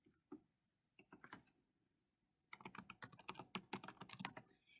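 A password is typed on a computer keyboard: a few scattered soft key clicks, a pause, then a quick burst of rapid, close keystrokes, with no talking.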